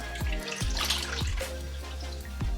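A washcloth is rinsed under running water during perineal care practice, a close steady splashing flow with a few soft dripping pulses.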